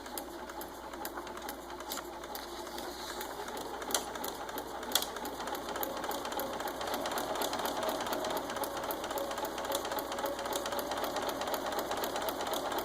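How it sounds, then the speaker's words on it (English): A sewing machine stitches through paper at a fast, even pace, a dense mechanical rattle that continues without pause, with a couple of brief clicks early on. "Now I'm going to show you how to do sharp curves on your sewing machine."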